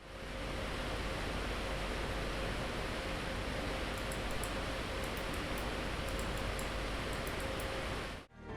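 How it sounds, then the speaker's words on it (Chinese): Three cooling fans of an ASUS TUF RX6700XT graphics card spinning at full speed near 3000 RPM on an overclocked card, a loud, steady broadband whoosh that holds evenly throughout, then cuts off at the end. "风扇转速都拉满了"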